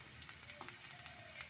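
Chopped onion and green chili fry in ghee with a faint, steady sizzle. A few soft pops and light stirring clicks sound close by, with no voices.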